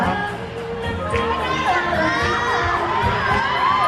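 A large crowd of fans at a family-day event cheers and shouts loudly and continuously, with many excited high voices blending into a dense roar.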